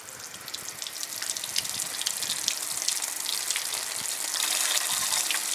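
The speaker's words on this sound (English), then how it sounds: "prime the pipe up first, just to make sure it's full" Water gushes steadily into a pipe being primed, a continuous hissing rush that builds slightly louder toward the end, with faint drips and bubbling and no talking.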